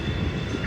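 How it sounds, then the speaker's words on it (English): Locomotive 3301 approaching westbound, a brief steady rumble of the train running along the rails, moderately loud, with no talk. "we got locomotive 3301, engineer LES, coming at you westbound, long connection"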